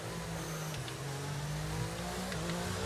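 An F1 race car in the F1 22 video game roars in a steady, loud engine drone as it overtakes an Alfa Romeo during a career-mode race in France, the pitch holding high with faint tire noise.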